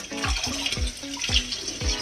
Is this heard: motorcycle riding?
no